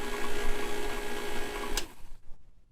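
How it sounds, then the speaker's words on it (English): An HVAC vacuum pump, hooked up during refrigerant recovery work, runs with a steady mechanical drone and hum, then shuts off and winds down to near silence. "Turn off the vacuum pump."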